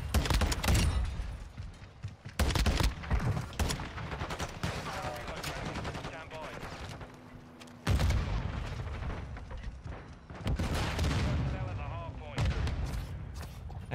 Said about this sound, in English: My man came around the corner blasting with them pistols.